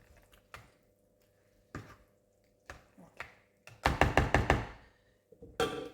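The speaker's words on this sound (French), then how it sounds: "Je vais mélanger d'abord ici." Utensil knocking and scraping in a bowl while the tortilla egg filling is mixed, scattered soft taps followed by a quick run of sharper clattering strokes, close and fairly quiet with gaps between.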